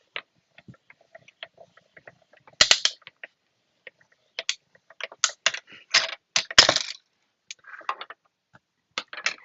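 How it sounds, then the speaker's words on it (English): A die cutting machine is hand-cranked through with stacked card pieces, giving a run of irregular clicks, creaks and ratcheting mechanical bursts at close range, with no talk. "I'm going to put on top and then crank it through."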